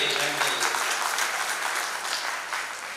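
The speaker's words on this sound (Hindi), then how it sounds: "तालियां बजाइए" Audience applause at an essay-competition award event for Balram Jayanti: dense, continuous clapping from a crowd, fairly loud and even, tapering slightly toward the end.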